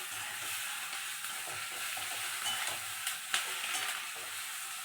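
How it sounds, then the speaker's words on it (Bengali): Spices frying with turmeric in a pan, a steady dense sizzle with faint stirring scrapes running unbroken and fairly close, with no talk. "হলুদ দিয়ে ভালো করে 5 থেকে 6 মিনিট একটু ভেজে নেব, বেশি ভাজবো না।"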